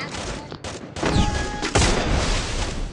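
Sniper rifle fire during a video game headshot, loud sharp reports cracking out around the middle of the clip over a dense, noisy game soundscape.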